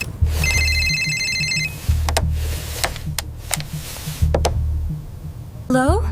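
A phone rings with an incoming call: a bright electronic ringtone rises early, followed by repeated sharp knocks and a voice talking over a low hum, then a rising chirpy tone at the end.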